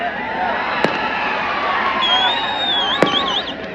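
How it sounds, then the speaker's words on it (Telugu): Firecrackers going off at an outdoor political road show, with two sharp loud bangs standing out over a steady crowd din and whistling, crackling fireworks throughout. "ఆ టపాకాయలు బంద్ అయినా ఎవరో టపాకాయలు బంద్ చేయండి."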